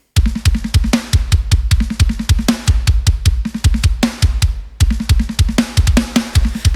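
Mixed deathcore metal drums, kick and snare together: a rapid, relentless stream of punchy low kick hits with sharp snare cracks on top, loud and continuous with only a brief dip before the pattern resumes.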